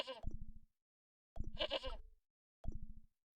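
A goat in the Broken Sword: Shadow of the Templars Reforged video game, tethered by a rope in rural Ireland, bleats three times in short, wavering calls separated by silence, close and clear.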